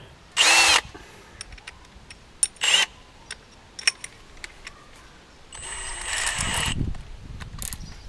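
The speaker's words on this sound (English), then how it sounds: "I don't want to drill in the brickwork, so I mount it here" Short bursts of a power drill drilling into a wall, two brief whirs early, then a longer grinding run, separated by scattered clicks and handling knocks.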